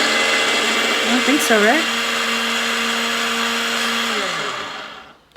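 A Fellow Opus coffee grinder grinding beans, a steady, moderately loud motor whir that drops in pitch and winds down near the end, while a person briefly speaks over it.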